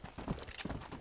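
A horse's hooves clip-clop in the western game Red Dead Redemption, a faint, quick uneven series of hoof strikes over soft ground, alone without talk.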